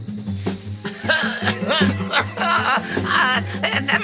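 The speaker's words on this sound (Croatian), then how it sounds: "To je Rovac!" A cartoon mole cricket chirps in short, repeated tonal bursts, loud and close, over a background of cartoon music.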